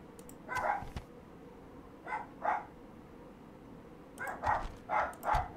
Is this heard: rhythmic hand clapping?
no